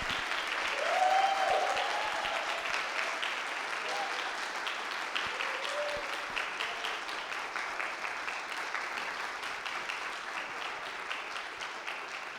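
Audience applause at a Brazilian event marking ten years of the university quota law, a dense, steady clapping from a large hall crowd that swells early and then holds at an even level throughout.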